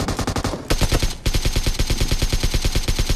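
Loud rapid-fire automatic gunfire in a battle royale video game, sharp close bursts with brief pauses between them, then a long steady run of shots.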